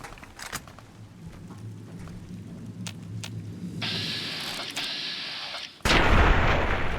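Anti-materiel rifle fire in Fallout: New Vegas, Honest Hearts: a steady low rumble with scattered sharp cracks, then one loud, close, full-band blast near the end that rings on with heavy low thump.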